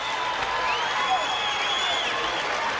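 A boxing crowd at a 1979 women's featherweight title bout applauds and cheers the new California champion, a dense, steady roar of clapping and voices filling the arena without a break.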